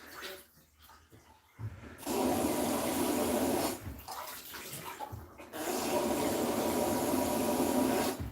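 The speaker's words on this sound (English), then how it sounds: "I can pull this off to dump water." Water is poured out of a bird's bathing tub in a steady, loud, close rush that runs for several seconds, halts briefly, then resumes.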